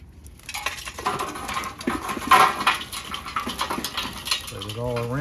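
Hot, ashed-over charcoal scraped and spread around a Weber kettle grill, giving irregular clattering and scraping close by, with a voice talking over it.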